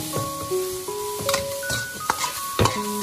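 Bullfrog stir-fried in a wok with a spoonful of salt, chicken bouillon and chili powder gives steady sizzling broken by quick stirring scrapes and clatter, heard close and clear over tonal background music.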